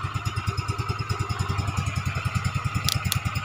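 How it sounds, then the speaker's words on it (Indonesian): A Yamaha Mio scooter engine with a custom CVT and Mio Z roller housing chugs in a steady, rapid pulsing rhythm at night, close and loud, holding an even idle-like revving throughout. "jadi hanya suara motor ini"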